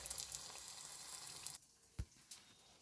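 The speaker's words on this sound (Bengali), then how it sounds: "আমি একটুখানি বেগুন ভাজা করে নিচ্ছি।" Eggplant slices fry in hot oil in a pan, giving a faint, soft sizzle for a moment before it drops away, leaving a few quiet clinks and stirring sounds.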